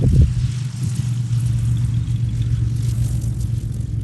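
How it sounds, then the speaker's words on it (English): A Cessna 210 light aircraft sits at Glenforsa airfield with its piston engine running, a steady, fairly loud low drone that holds evenly throughout. "That's a Cessna 210."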